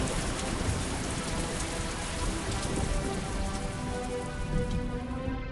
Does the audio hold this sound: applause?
no